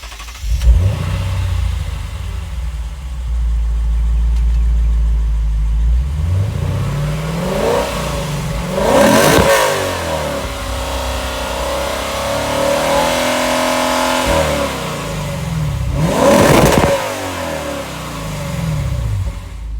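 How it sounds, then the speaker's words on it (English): A Lexus GS-F with a naturally aspirated V8 and quad-tipped exhausts starts, idles, then revs sharply twice, each blip rising and falling, heard close up with no talking. "these quad-tipped exhausts, which let's get a listen to."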